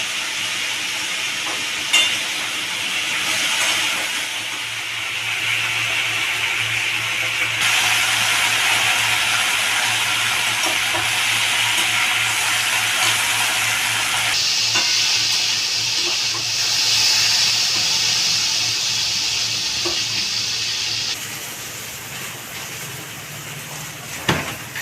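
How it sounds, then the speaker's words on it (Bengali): Potatoes fry with a pinch of salt in hot oil, giving a continuous broadband sizzle that swells and shifts as they are moved, then drops somewhat near the end with a light clink. "আলু ভাজার সময় একটু নুন দিয়ে দিচ্ছি।"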